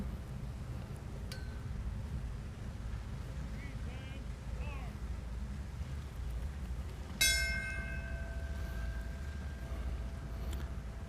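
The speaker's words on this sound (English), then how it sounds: "The fourth bell." A single memorial bell strikes once during a 9/11 Flag of Honor ceremony at the Buffalo Naval & Military park, its clear ringing tone decaying slowly over steady outdoor background noise.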